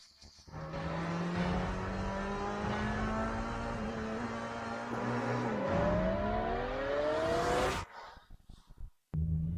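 A G Nation race car engine revs hard at speed: a loud, sustained roar whose pitch climbs steadily, then cuts off abruptly near the end, leaving brief scraps of sound.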